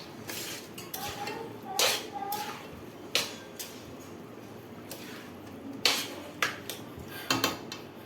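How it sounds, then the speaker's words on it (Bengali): Rice fried with spice paste in a pan, stirred with a metal spoon, makes repeated scraping clinks and soft frying crackle at a moderate distance, with talk heard at times. "চালটাকে ভালো করে ভেজে নেব।"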